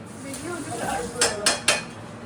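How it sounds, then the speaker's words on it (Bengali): A large metal wok is pulled out among kitchen pots, starting with some rummaging and ending with three sharp, close metallic clatters. "এর থেকে বড় কড়াই বার করার চেষ্টা চলছে"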